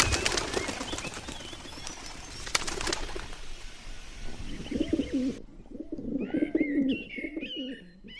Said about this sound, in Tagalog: Hala yung kalapati mo, Pekto.